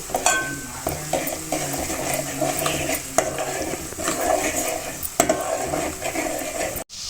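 Onion paste hits hot oil for a Telangana fish pulusu, giving a steady close sizzle with scraping stirs and occasional clinks of a utensil against the pan throughout.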